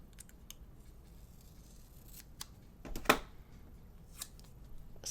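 Scissors snip through paper for a colour-block planner spread, with a few light cuts early on and one sharper, louder snip near the middle over a quiet room background.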